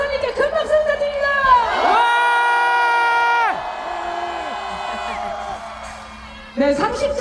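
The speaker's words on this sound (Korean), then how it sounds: "처음 듣는 함성 소리를 부탁드리겠습니다" A large rally crowd cheers for a lawyer in a sustained wave of shouting and whooping that fades gradually, with an amplified voice over it at the start and again at the end.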